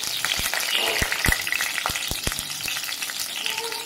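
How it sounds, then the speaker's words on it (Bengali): Chopped garlic frying in hot oil, a loud, close, busy sizzle with sharp crackling pops scattered throughout, heard alone. "এরপর আমি এই তেলের মধ্যে, গরম তেলে আমি কাটা রসুনগুলো"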